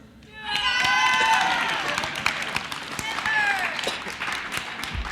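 A crowd at a summer night event applauds and cheers for a performer named Kemper, the clapping swelling quickly and staying loud, with whoops and shouts rising over it.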